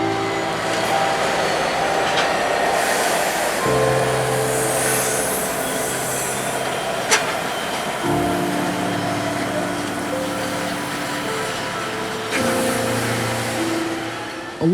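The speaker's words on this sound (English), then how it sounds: "where our departure would be interrupted by a northbound intermodal train" A Norfolk Southern intermodal freight train crawls past northbound, a steady rolling rumble of rail cars with shifting wheel tones and faint squeals, fairly close.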